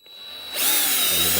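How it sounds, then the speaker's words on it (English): A cordless drill whirs up from a low start, then bites into a bag with a loud, steady grinding buzz that holds to the end. "I'm just going to use this cordless drill"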